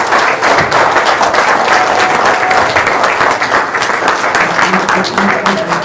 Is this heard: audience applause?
yes